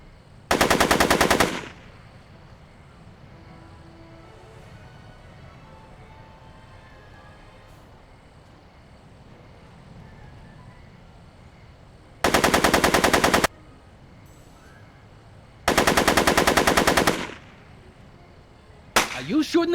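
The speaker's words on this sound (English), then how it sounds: "Are you shooting at me?" Bursts of rapid machine gun fire in a movie scene, three long loud volleys plus a final short one separated by quieter stretches of ambient noise, with no talking.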